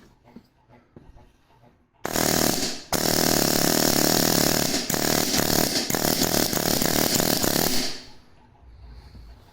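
A Central Pneumatic air hammer, dry firing, rattles in a loud, rapid burst for about six seconds, briefly pausing once, then cutting off to quiet.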